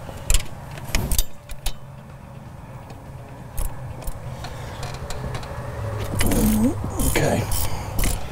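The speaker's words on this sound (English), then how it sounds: "we're just going to go ahead and remove these two bolts" Ratchet wrench loosening bolts on a diesel engine's EGR crossover during a CP4 pump replacement, with sharp metallic clicks and clanks, bursts of ratcheting and tool handling close by, later under some talk.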